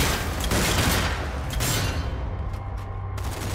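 Rapid bursts of gunfire from the zombie shooter game Zombie Army 4: Dead War, loud and dense at first, then thinning into scattered single shots.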